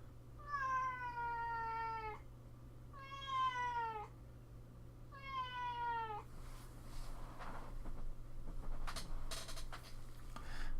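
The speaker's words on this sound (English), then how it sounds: "My cat's in my room." A cat indoors gives three long, drawn-out meows in close succession, loud and near, over a steady low hum, followed by faint scratching and rustling sounds.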